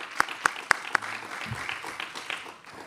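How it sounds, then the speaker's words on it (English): Audience applause at an International Women's Day innovation event in Sydney: four crisp, evenly spaced claps ring out, then fade into a soft, diffuse patter of hands. "So let's give a round of applause."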